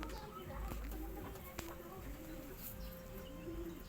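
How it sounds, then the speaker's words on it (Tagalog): Pigeons coo softly in a loft, low warbling calls repeating at a distance beneath a person talking nearby. "Ito mga kalapatids."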